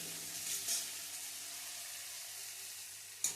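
Egg and poppy seed paste with green chili cooks in a frying pan, a soft, steady sizzle close by with a faint scrape of the spatula and a small clink at the end.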